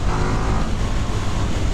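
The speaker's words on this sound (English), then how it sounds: "Listen to this. That engine, wow. Even with a stock exhaust" A 2019 KTM Super Duke GT motorcycle engine with its stock exhaust pulls hard in third gear, a loud, dense, continuous roar heard up close while riding, mixed with rushing wind.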